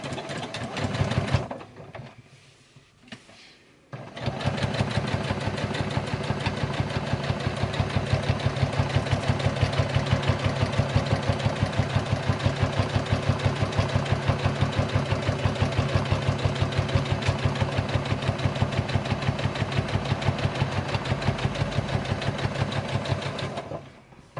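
After a brief pause, a sewing machine runs in a long steady burst while stitching a fabric make-up bag panel, its needle giving a fast, even, loud mechanical rattle close by.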